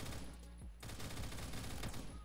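FAMAS rifle fire in the Roblox shooter Phantom Forces, fitted with a muzzle booster: dense rapid bursts in a loud, continuous stream with a short gap partway through.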